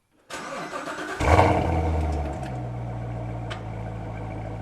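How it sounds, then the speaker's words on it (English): After brief silence, a Corvette C7 engine cranks and fires, revving loudly before settling into a steady, rumbling idle. "You can just like feel the whole car moving when you start the engine."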